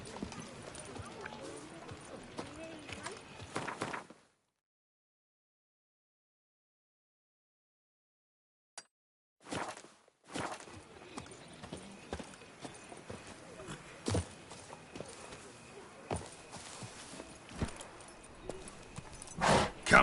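Hooves of the horse Roach clip-clop through a Witcher 3: Blood and Wine scene, steady footfalls near and clear, broken by a few seconds of silence midway before resuming with game sounds and voices.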